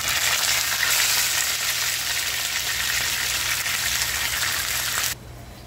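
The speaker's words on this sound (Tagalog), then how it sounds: "First, ipiprito ko muna ang isda." Fish sizzling steadily in hot cooking oil in a pan, a loud continuous crackling hiss that drops off abruptly near the end.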